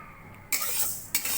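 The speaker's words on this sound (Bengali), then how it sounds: "মুগ ডালগুলো প্রথমে ভেজে নেব।" Moong dal frying in a pan, heard as a soft sizzle with two sharp bursts of scraping and stirring against the metal, close and without voices.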